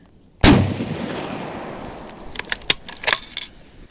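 A single loud rifle shot from a restored 1942 Remington 1903 Springfield rings out at a firing range, with a sharp crack followed by a decaying echo and some faint clinks and rattles afterward.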